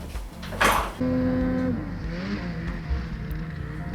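Ski-Doo snowmobile riding over crisp, hard-topped coastal snow, its engine droning steadily and rising in pitch as it pulls away, loud and close, with no talk.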